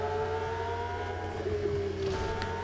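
Steady high engine whine of a Lotus Type 125 Formula 1 car being driven in the Real Racing 3 mobile racing game, a continuous sustained tone with slight pitch shifts and no talk.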